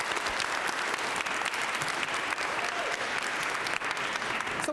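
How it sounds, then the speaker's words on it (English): An audience at a Girls' Day panel event applauds a congresswoman, sustained, dense clapping that holds at an even level for several seconds without talk. "Let's give a round of applause for Congresswoman Gwen"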